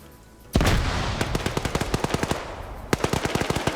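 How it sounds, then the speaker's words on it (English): Gunfire in an Arma PvP match, with sniper fire from a tree: a loud opening report, then rapid, evenly spaced sharp cracks of automatic fire that pause briefly and resume close by. "he's taking flanking fire from a sniper up in that tree"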